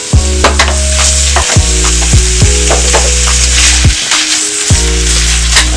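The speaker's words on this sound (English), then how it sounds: "Then I'll be adding the beef, the minced beef to it." Minced beef frying in a hot pan for meat pie filling, a loud, steady sizzle punctuated by a series of sharp knocks and scrapes as a utensil breaks it up, with no talking.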